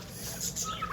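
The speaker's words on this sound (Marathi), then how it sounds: "हे टर्किश कोंबडी आहे" A turkey hen kept among resort birds gives a short burst of soft clucking calls, moderately close, over faint background murmur.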